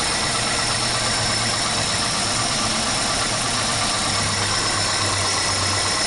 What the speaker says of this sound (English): we got 3 cylinders with a misfire, but it looks like it's probably just 1 cylinder. But anyway, it's a dead misfire